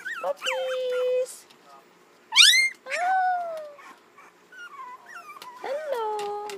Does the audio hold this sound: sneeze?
no